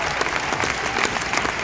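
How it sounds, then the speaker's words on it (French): An audience applauds Sylvain Frémont at a Christian worship gathering, steady dense clapping from a crowd sustained without a break through the whole short burst. "Je vous invite à applaudir Sylvain Frémont aussi."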